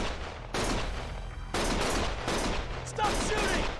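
Gunfire in the video game Lost Judgment, several loud bursts of rapid shots arriving in waves over a dense, busy game mix with a voice shouting.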